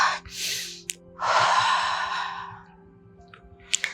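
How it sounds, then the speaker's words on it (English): Breath exhaled during a hip and core stretching exercise, a short audible breath followed by a long, strong sigh-like exhale over a low steady hum, close to the microphone. "breathe out"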